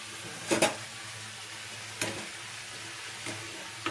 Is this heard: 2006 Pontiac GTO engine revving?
no